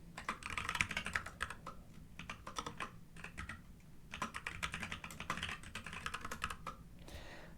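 Rapid, uneven clatter of keys on a computer keyboard, close and fairly quiet, with bursts of quick keystrokes broken by brief pauses and no talking.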